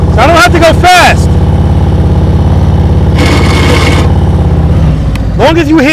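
Motorcycle engine running steadily at low speed during slow-speed riding practice, a loud continuous drone under close, prominent speech.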